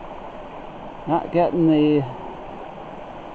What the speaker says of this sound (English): I've been up and down this creek a while